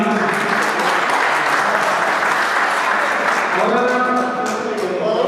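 An audience at a gathering of Punjabi writers and poets gives Deepak ji loud, sustained applause, a full wash of many hands clapping, with a voice emerging as it tapers toward the end.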